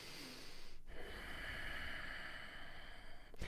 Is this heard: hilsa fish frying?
no